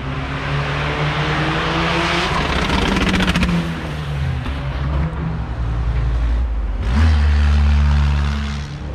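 The number 8 turbo race car revs hard at the start line of a Réunion Run Alpha event, its loud engine roaring and pitching up, then surging with a sharp burst of acceleration near the end.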